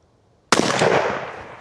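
A single loud shotgun blast fires abruptly after a short silence, its boom decaying into a long echoing tail, with birdshot and buckshot shells used at roughly 150 feet.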